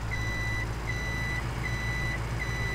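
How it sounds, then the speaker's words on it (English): Repeated electronic reversing beeps, four evenly spaced tones, sounding over a steady low truck engine rumble nearby. "The reversing tone is good, but it's very loud."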